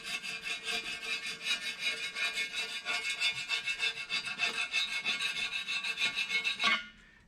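A scraper grinds dirt off aluminum edges in a 2008 Dodge 2500 Cummins engine, making a close, rhythmic rasping of quick repeated strokes that stops abruptly near the end.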